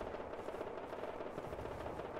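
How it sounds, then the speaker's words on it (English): Gunfire from the video game Rust sounds at a tower as a dense, continuous rattle of distant shots, steady and fairly faint throughout, with no talking. "Somebody's shooting at the tower"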